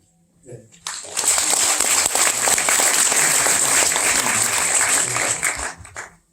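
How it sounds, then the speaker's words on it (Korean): An audience bursts into loud, sustained applause at an inaugural ceremony as board members of a cultural foundation are introduced. The sound swells and fades after several seconds, with voices faintly mixed in. "한 분 한 분 소개할 때마다 큰 박수를 부탁드립니다"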